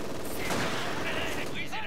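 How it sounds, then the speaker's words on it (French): Small-arms gunfire crackles in Company of Heroes 2, a dense burst of shots under a battle din of overlapping noise, fairly loud and continuous for about two seconds. "On essuie des tirs d'armes légères."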